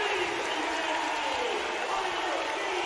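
A basketball crowd roars and cheers after Jelly Walker's swished three-pointer in a UTEP vs UAB men's game, a dense, sustained wash of arena noise throughout.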